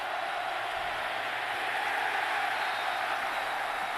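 A football stadium crowd at a college game roars in a steady, loud, continuous wash of cheering that holds evenly throughout without breaks.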